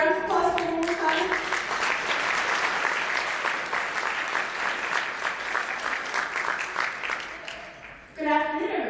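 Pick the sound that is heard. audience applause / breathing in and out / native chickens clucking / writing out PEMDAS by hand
audience applause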